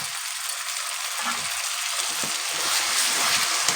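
Tomato paste sizzles in hot oil in a pan for a Bengali katla fish kalia, a steady close frying hiss with soft bubbling crackles throughout and no talking.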